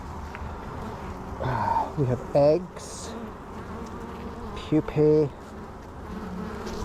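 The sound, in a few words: honey bees buzzing in an open hive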